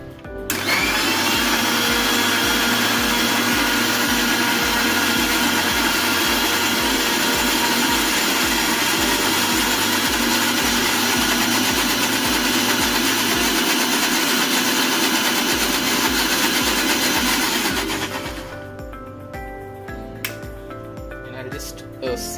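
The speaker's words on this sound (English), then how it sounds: "I'll just put on the lid and we'll just blend." A blender whirs loud and steady, mixing banana, oats and milk into a smoothie, running continuously for most of the stretch before cutting off near the end, with no voices.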